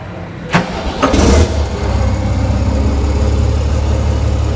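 A Mahindra Blazo BS6 truck's diesel engine cranks with a couple of sharp bursts, then catches and settles into a loud, steady rumbling idle that continues close by.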